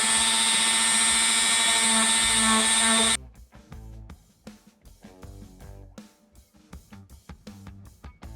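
Sanding a handmade Wolverine mask with a power tool, a steady loud high-pitched whine for about three seconds, then broken, uneven grinding bursts as the tool works the surface.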